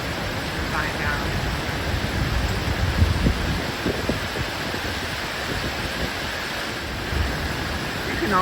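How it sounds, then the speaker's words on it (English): Floodwater from a hurricane-swollen creek in Montreat surges and thumps against a bridge, a steady broadband roar of rushing water close by with brief wind buffeting on the microphone. "wow, the creek thumping against the bridge there"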